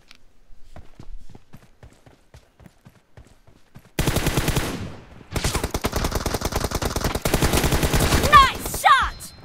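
Gunfire in a video game team deathmatch: after a few quiet seconds of faint taps, loud rapid automatic bursts start abruptly and continue in dense rattling volleys with a brief pause, ending with sharper pinging sounds.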